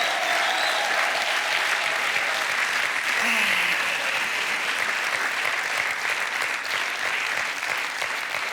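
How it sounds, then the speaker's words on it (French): A Pigalle comedy-show audience keeps up strong, continuous applause for a comedy duo, a dense wash of clapping with a brief voice and murmurs mixed in partway through. "Je vous demande d'applaudir très, très fort,"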